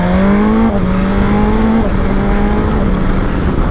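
A 2020 BMW S1000XR motorcycle accelerates hard through the gears. The steady engine whine climbs and then drops briefly at each quick shift, loud and close, with wind noise and no talk.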